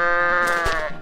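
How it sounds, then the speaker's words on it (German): A goat bleats loudly and close in the video game I am Bread, giving a drawn-out, wavering cry that trails off. "die Ziege randaliert völlig rum"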